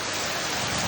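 Heavy rain pours down during a thunderstorm, a loud, dense and even wash of falling water close by, with no voices.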